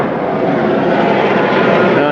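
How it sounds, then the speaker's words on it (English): An aircraft drones steadily overhead, a continuous broadband rotor-and-engine roar that stays loud and even throughout with no talk over it. "Here the chopper's coming overhead, coming for the wounded, coming for the dead."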